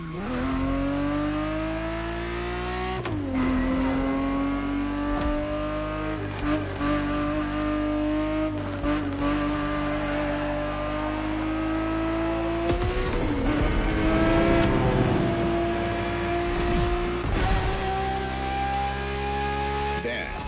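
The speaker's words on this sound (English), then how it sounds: "The Ferrari 365 GTB4 is the perfect vehicle for you to experience Ferrari racing as it felt back in the 70s" A Ferrari 365 GTB4 from the 1970s races in the Crew Motorfest video game, its engine holding a loud, continuous note that climbs steadily through the gears and drops at each shift, with occasional tire squeal.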